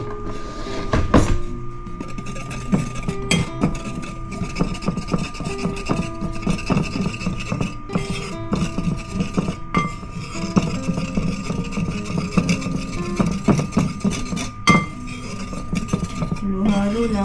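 Dry ingredients for mocha cupcakes being mixed in a bowl: fast, continuous clinking and scraping of a utensil against the bowl, close and fairly loud, running steadily from start to finish.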